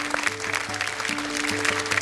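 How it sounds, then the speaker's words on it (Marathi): A studio audience at a televised Marathi women's show claps in a dense, even burst of applause, moderately loud, with faint tonal sound beneath. "एकदा जोरदार टाळ्या."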